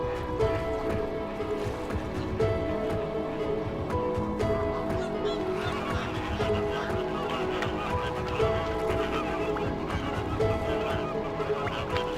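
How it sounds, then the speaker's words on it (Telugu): A large flock of flamingos resting in shallow wetland water honks and calls, a dense, unbroken chorus of overlapping goose-like cries. "ఫ్లెమింగోలు లోతులేని నీళ్లల్లో విశ్రమిస్తాయి"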